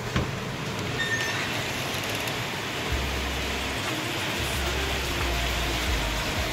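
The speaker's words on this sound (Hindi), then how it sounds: "गाइस बाहर जबरदस्त बारिश शुरू हो गई है यार फिर से।" Heavy rain falls outside in a steady, broad hiss that continues without a break, with a low rumble underneath. No voices can be heard.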